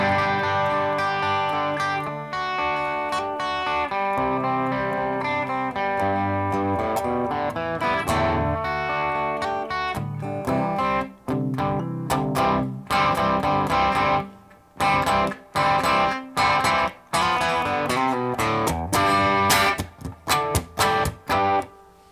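An electric guitar played through a Boss OD-3 overdrive pedal at low drive, lightly crunchy sustained chords that ring out and then give way to short choppy strums with gaps of silence, no talking.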